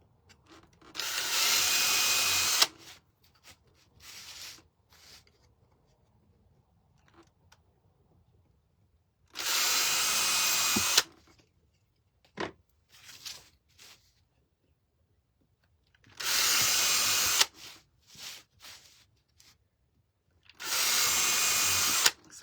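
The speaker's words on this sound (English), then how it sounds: "So I drill a hole on each side." A power drill whines in four separate bursts of a couple of seconds each, with quiet handling noises and clicks between them.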